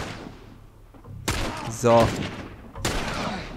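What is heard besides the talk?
sniper rifle shots in The Last of Us video game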